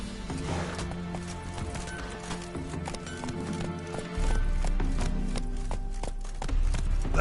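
Roach, the horse in The Witcher 3: Wild Hunt, gallops with rapid rhythmic hoof clip-clops that grow louder partway through, set against game ambience and music.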